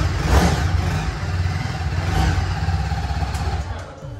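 A motorcycle engine, a Royal Enfield Interceptor 650 or a TVS Apache, runs at a showroom with a steady close throaty idle and slight revving swells, easing off toward the end.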